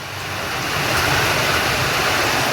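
Heavy rain in a village makes a loud, dense, continuous roar that swells slightly at the start and then holds steady, with no voices.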